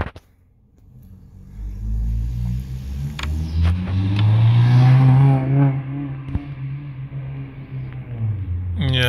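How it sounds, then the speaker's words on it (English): A street-racing car's engine revs hard from a low rumble into a loud, rising, accelerating roar that swells and holds before dropping away, fairly close by, with faint talk underneath. "that's some guy trying to race in the streets"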